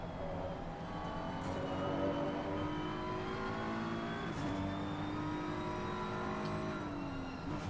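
A Lamborghini GT race car at Brands Hatch in Assetto Corsa Competizione accelerates hard, its engine note climbing through rising gear pulls with a short drop at a shift, loud and steady with no talk.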